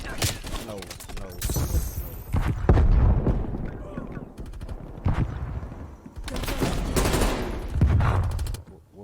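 Automatic weapon fire in the shooter game Call of Duty: Black Ops Cold War, played on keyboard and mouse, comes in several loud rapid bursts separated by short gaps, with someone talking over the shooting.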